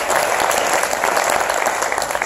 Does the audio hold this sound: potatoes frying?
no